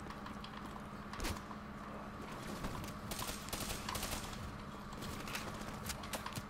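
Gunfire in the Black Ops 3 campaign, a first-person shooter video game, comes as dense bursts of rapid shots and sharp cracks over a constant loud battle din.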